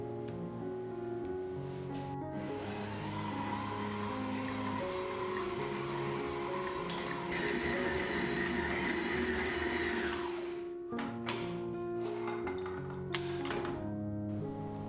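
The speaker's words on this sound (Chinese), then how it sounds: "继续搅拌，直到面团变得很有弹性。" A stand mixer kneads Panettone dough for Milanese Christmas bread, a continuous motor whir with shifting tonal hum and rhythmic slapping, steady throughout before a brief pause and restart with clunks near the end.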